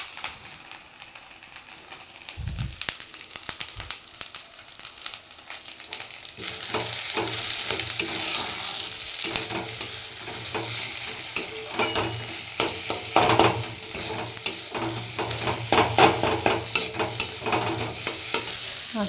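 A coconut and khoya mixture stirred in a frying pan, with a few scrapes at first, then continuous close spatula scraping and a soft sizzle throughout, no voices.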